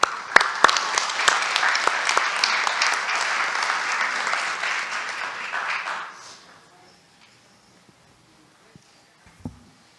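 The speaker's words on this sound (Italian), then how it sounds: "Credo che meriti anche un applauso." Audience applause at a medical symposium session on assisted reproduction results, a steady mid-sized crowd clapping for about six seconds before it fades out into quiet room tone with a faint bump near the end.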